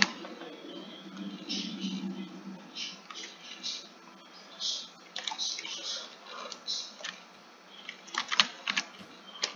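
Rapid, steady mouse clicking during a Minecraft session, a dense run of light ticks all the way through, with a voice talking over it in bursts.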